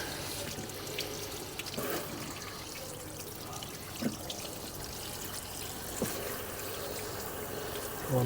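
Water gushes and trickles steadily while back-flushing a rusty Citroen C1 radiator, a continuous splashing flow with occasional small knocks, no talk.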